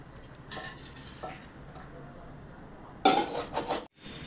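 A pan of stuffed pointed gourd filling lifted off the stove, with a few metallic scrapes and clinks of cookware, one loud clatter near the end.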